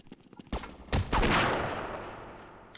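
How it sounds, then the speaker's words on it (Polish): Revolver shots in the video game Half-Life: a few sharp, loud blasts in quick succession, each trailing into a long, fading echo, with no talking. "Najwyraźniej trzy strzały z rewolweru"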